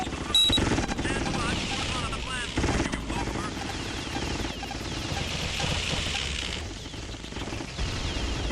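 A helicopter in the video game G-Police makes a constant, dense roar with rapid gunfire bursts layered over it, loud and continuous throughout, while a person talks over the game.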